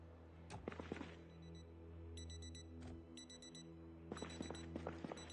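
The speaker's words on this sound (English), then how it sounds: "that watch beeping that we just heard" A wristwatch in the Project Zomboid video game beeps in short, quick clusters of high electronic tones, three bursts spread across the moment, heard over a steady low game hum with some clicking noises.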